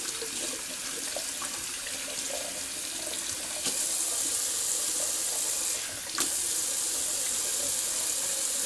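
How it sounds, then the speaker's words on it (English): A tap runs steadily for a cold water rinse at a bathroom sink during a shave, a constant close hiss and splash that brightens and grows slightly louder partway through, with no talking. "I'm just gonna do a quick cold water rinse."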